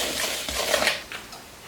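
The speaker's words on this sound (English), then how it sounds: "So I'm going to go ahead and stir this up." Food being stirred in a pot with a utensil for taco filling seasoned with cayenne pepper, a few soft close scraping and clinking strokes against the pot's sides, brief and fairly quiet, no talking.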